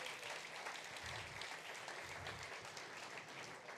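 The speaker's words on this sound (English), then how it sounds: "So please give them another round of applause." Audience applause at an entrepreneur speaker series session on marketing, a steady, fairly quiet wash of clapping from a crowd that holds evenly for several seconds.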